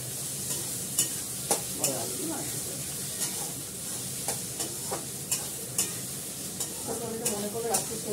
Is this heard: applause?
no